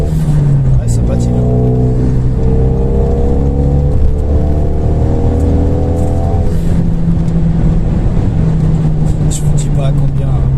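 A Renault Megane RS engine revs and accelerates through rising pitch sweeps, heard loudly from inside the car with a steady road roar, while someone talks over it throughout.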